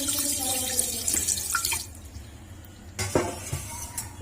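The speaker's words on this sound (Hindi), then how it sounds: "अब इसके अंदर हमने 1 गिलास पानी ऐड करना है," A glass of water is poured into a kadhai of mutton for Peshawari namkeen gosht, giving a close splashing, trickling pour that stops midway and resumes with a short burst of splashes.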